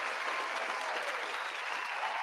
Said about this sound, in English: please, round of applause to everybody watching the show